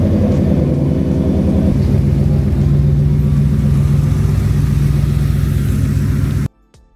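Inside the cab, a 2024 Ford F-150 Tremor pickup drives with a loud, steady engine drone and road rumble. The engine note swells slightly midway, then the sound cuts off abruptly near the end.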